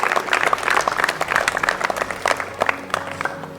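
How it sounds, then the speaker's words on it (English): An audience applauds steadily, a dense wash of many hands clapping at moderate volume, with some crowd noise mixed in. "they deserve a big round of applause from all of us"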